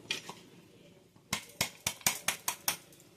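Gram flour, ghee and crushed almonds and cashews being mixed in a pan for laddu, a run of sharp, close spoon-on-pan clacks in quick rhythm after a quieter scraping start.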